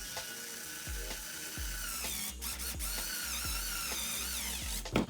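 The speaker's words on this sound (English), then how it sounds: "I'm going to be using a 1/2-inch spade drill bit right here." A power drill with a 1/2-inch spade bit whirs steadily as it bores a hole in a NERF Stryfe blaster, with repeated rhythmic knocks and a brief rise in pitch near the end; no talking.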